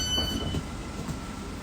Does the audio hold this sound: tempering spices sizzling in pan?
no